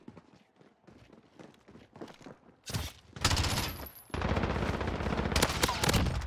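Rapid automatic gunfire in Call of Duty Modern Warfare, a P90 class in online multiplayer, begins as faint distant shots under footsteps, then swells into loud close bursts of sustained fire.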